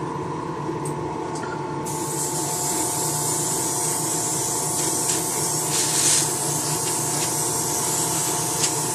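A scale model gets its last coat of dark paint from a spray gun: a steady airy hiss starts about two seconds in and runs on continuously at close range over a low background hum.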